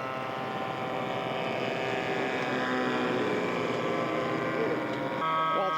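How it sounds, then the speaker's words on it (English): Airplane making a low flyby at an air show, a sustained droning engine and propeller tone with shifting pitch, fairly loud and steady, with a voice talking over it. "Claude's going to do a low flyby for us here"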